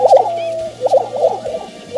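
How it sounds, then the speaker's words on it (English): Lesser prairie-chickens at a lek give loud, close, gobbling and cackling calls in repeated bursts, with low booming underneath and no talk. "Lesser prairie chickens make some really crazy sounds."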